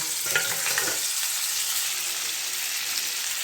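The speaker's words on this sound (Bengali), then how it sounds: "সেই ফুলকপিগুলো এই মাছ ভাজা তেলের মধ্যে দিয়ে আমি একটু ভেজে নেব" Cauliflower pieces fry in leftover fish-frying oil with a loud, continuous sizzle, and brisk stirring scrapes in the first second settle into a steady crackle; no voices.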